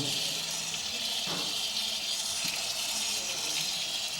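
An etching plate is rinsed under a running tap, giving a steady hiss of flowing water with small splashes and knocks as the plate is moved.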